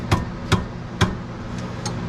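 Sharp metal hammer blows knocking brake parts loose from the front of a C6 Corvette, three loud evenly spaced strikes about half a second apart, then two lighter taps, close by in a garage.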